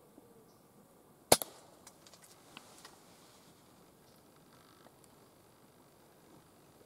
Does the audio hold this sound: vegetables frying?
no